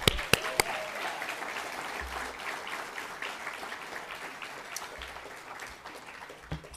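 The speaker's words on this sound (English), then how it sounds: "a big round of applause for DGC National, who sponsored this award for us." An audience at a film editors' awards ceremony in Toronto claps in sustained applause, with a few sharp, close claps standing out at the start and near the end.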